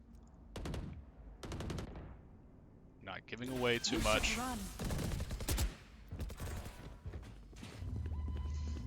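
Rapid gunfire bursts crackle in a Valorant match during a college esports broadcast, short volleys popping behind a caster's fast commentary that runs over most of the action.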